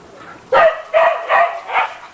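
A neighbor's dog at an apartment complex barks four times in quick succession. The barks are sharp and fairly close, with short gaps between them and a quiet background.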